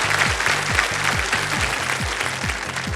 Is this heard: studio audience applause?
yes